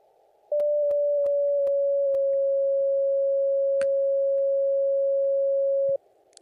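A steady pure 550 Hz CW pitch beep from an Elecraft KX2 transceiver holds for about five seconds, preceded by a few faint clicks, clean and even against near silence.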